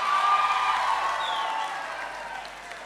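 Audience applause at a Miss Western Province of Solomon Islands pageant, a steady wash of clapping from a crowd that holds loud throughout and eases slightly toward the end.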